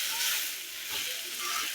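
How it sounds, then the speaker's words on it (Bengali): Potatoes frying with turmeric for a quick aloo bhaji in a village kitchen; a soft, even hiss of frying oil, fairly quiet and unbroken through the short stretch. "এই যে ভাজা ভাজা হয়ে গেছে, প্রায় হয়ে গেছে, অর্ধেক সিদ্ধ হয়ে গেছে।"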